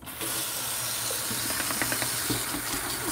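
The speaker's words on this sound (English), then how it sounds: "I'll just go and give this brush a wash" A paintbrush sloshes and swishes in a bucket of water, a continuous close hiss of splashing with scattered knocks and drips throughout.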